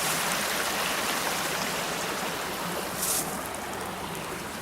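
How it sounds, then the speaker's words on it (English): Calabash Creek rushing over and between rocks, a steady broadband wash of flowing water with a brief louder splash partway through, close and continuous with no voices. "Calabash Creek coming through these rocks."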